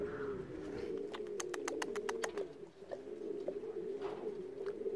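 Pigeons coo in a low, continuous murmur outdoors, joined midway by a quick run of sharp clicks, with other faint bird calls around.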